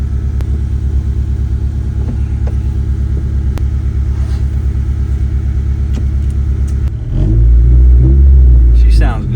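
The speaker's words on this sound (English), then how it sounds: "we got the car started. The first test drive, it's just gonna have to be on my way to the alignment shop" A rebuilt Honda Civic EF hatchback drives on its first test run, its engine a steady low rumble heard from inside the car, swelling into a louder, heavier drone near the end with faint talk underneath.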